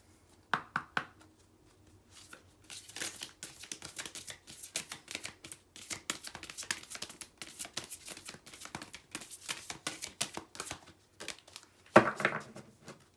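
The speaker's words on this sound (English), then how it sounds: "These cards are huge. They're hard to shuffle." Large, stiff oracle cards being shuffled by hand: dense, scuffing riffles and clacks in uneven bursts, close up, with a few knocks before and after.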